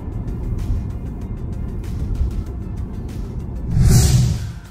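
A Tesla Model Y Juniper electric SUV cruises on a road, its cabin filled with steady low tire and road rumble, a faint whine, and a brief louder whoosh near the end as something passes.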